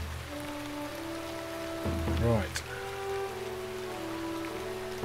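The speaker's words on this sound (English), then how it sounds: "when it was raining, it would also rain inside" Rain falling in the Shroud of the Avatar video game, a soft, steady patter under a faint musical drone and a brief whooshing game effect, with one short spoken word over it.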